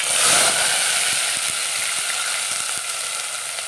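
Wet crushed onions and shallots hitting hot oil with mustard and fenugreek seeds, a loud, dense, continuous sizzle with faint crackling ticks throughout, no voices.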